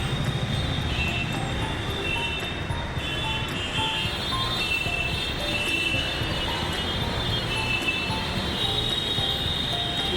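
Delhi Metro train running on its track, a loud continuous roar of wheels and rail with faint high-pitched squeal, heard up close and unbroken for the whole stretch.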